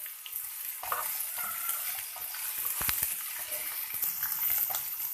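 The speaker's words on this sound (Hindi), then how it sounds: "इसको 1 मिनट तक फ्राई करेंगे" Ingredients frying for one minute in a pan for aloo chana chaat, a continuous moderate sizzle with clattering stirs and a few sharp knocks, no voices.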